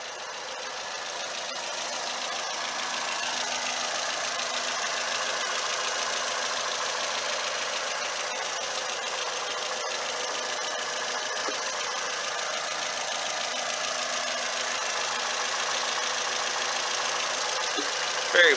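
A 2016 Toyota Camry SE's 2.5-liter four-cylinder engine idles steadily under the hood, a continuous even hum with a slight knocking texture that holds at a constant level throughout.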